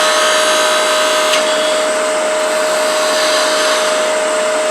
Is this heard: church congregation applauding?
no